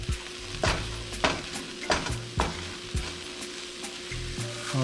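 Chicken and broccoli stir fry sizzles steadily in a pan, with a utensil scraping and stirring in regular strokes roughly every half second, close and fairly loud, no voices.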